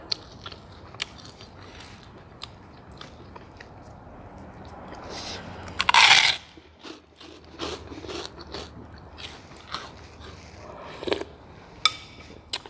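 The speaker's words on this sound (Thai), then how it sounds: "แคบหมูซื้อมาทอดเองกรอบ สุดยอด" Crispy, home-fried pork rinds are crunched and chewed alongside a bowl of pork noodle soup, with scattered close bites and one loud, sharp crunch midway among softer chewing sounds.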